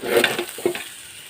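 Rice and spices fry for khichuri with a brief burst of stirring and scraping over a soft sizzle, heard close and fading quickly.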